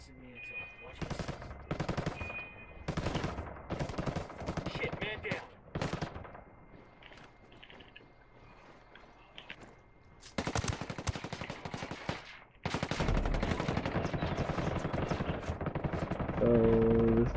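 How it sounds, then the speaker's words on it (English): Video game gunfire in Ghost Recon Wildlands: bursts of automatic and single shots, some close and sharp, some more distant, with pauses between volleys and a dense sustained stretch near the end. "Oh, I got shot at."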